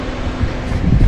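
Steady, loud outdoor wind rushing across the microphone on a sunny, cold day in Japan, broadband and continuous with gusty low rumble.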